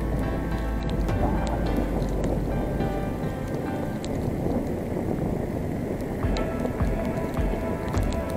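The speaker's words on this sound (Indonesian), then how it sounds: "Hujan." Heavy rain pours steadily during a bicycle ride on the Cikerai route, a loud, dense wash of noise that runs unbroken throughout.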